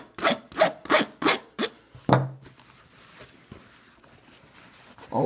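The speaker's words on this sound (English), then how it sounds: "All it did was scrape, you know, the plastic." A razor knife scrapes across the plastic of an ALTAI tactical boot with Super Fabric, giving five loud, rhythmic rasping strokes followed by a quieter drag and faint scratching.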